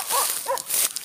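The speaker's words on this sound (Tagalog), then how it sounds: "Mga aso." Dogs barking in a rural Palawan yard, two quick nearby barks with yelping tone over outdoor background noise.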